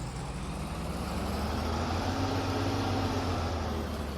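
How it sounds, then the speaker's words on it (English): A harvester engine in Farming Simulator 22 idles with a steady, deep droning rumble and a constant low hum, unchanging and close throughout, with no talking. "Let's go back here and fire up this harvester."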